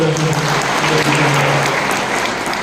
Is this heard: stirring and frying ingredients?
no